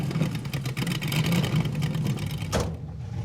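A Mazda-based Mazdarati car engine revs hard and steadily during a burnout attempt with the front wheels chocked, loud and close, then cuts off abruptly near the end.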